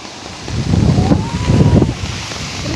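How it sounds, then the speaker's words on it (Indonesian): Gusty wind sweeps steadily past the microphone during heavy rain and flooding in Fukui, Japan, a broad continuous rush that swells and eases over a few seconds with no voices. "Terus angin juga lagi."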